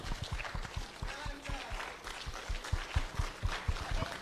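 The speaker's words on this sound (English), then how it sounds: "Let's clap for him." An awards-ceremony audience claps for an honoree, a few seconds of fairly sparse, steady applause heard from within the hall.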